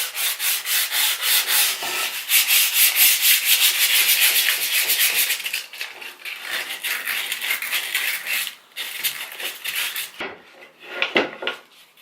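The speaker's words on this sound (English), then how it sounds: "sandpaper that I'm just going to use to rub and sand away anything that could potentially harm a baby, like splinters, tear out" Sandpaper rubs wood by hand to knock down splinters and tear-out, a steady rasping back and forth close up that goes on for several seconds and then breaks into shorter strokes, with no voices.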